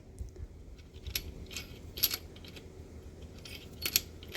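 Bolts being removed from the main bearing caps on an L48 small block Chevy bottom end, heard as a few sharp, close metallic clinks and taps scattered over a quiet background.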